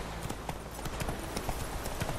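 A horse's hooves clip-clop at a steady trot in The Witcher 3, quick evenly spaced thuds over a constant background wash, close and clear, with no speech.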